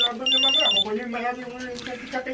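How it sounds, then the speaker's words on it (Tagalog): Cellphone ringing with an incoming call, a rapid high electronic trill lasting under a second, followed by a voice speaking. "Ba, si paring Baldo itong tumatawag sa cellphone ko"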